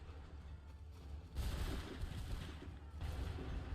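Assassin's Creed 3 soldiers firing muskets on command: a low rumble, then a loud volley of overlapping shots with a second ragged burst a little later, distant and booming.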